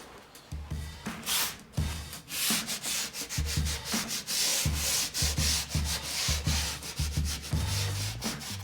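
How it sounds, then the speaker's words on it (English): Sanding a primed wood attic door panel by hand, a steady loud rasping scrape in repeated back-and-forth strokes throughout, close and with no voices. "Now I'm just gonna give the panel a quick sand so it's nice and smooth before we go over it with our top coats."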